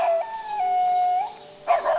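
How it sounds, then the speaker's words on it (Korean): A mother dog living at a Buddhist temple howls for her lost puppy: a long, loud, wavering wail close by that breaks off, then rises again into a fresh cry. "새끼를 찾는 건지 연신 애타게 울부짖는데요"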